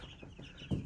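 Ducks and small chicks share a coop, giving soft scattered clucks and peeps that end in a louder fluttering burst, faint and close with no voices.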